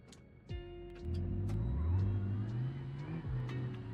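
Car engine in a video game, a high-grade 220-horsepower car, revving up after a sharp click, its pitch climbing then dipping and rising again, moderately loud with no talk.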